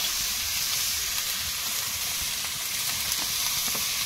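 Cooking oil sizzles in a kadai on the stove, a steady, close, even hiss with faint crackles throughout and no voices.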